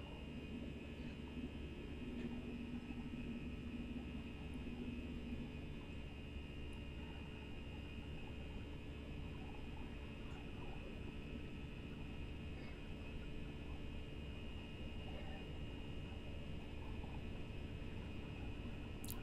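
Steady, continuous rumble of an Airbus A319 airliner's engines during the takeoff roll in a flight simulator, a broad droning roar with a faint whine, constant and unbroken from start to finish, with no talking.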